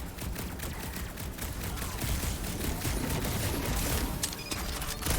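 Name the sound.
gunfire in a video game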